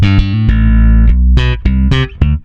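A G&L L-2000 Tribute bass with a passive humbucker, played in its OMG bass boost mode, sounds several loud, sustained notes with deep, heavy low end and attacks at a steady spacing, with no talk.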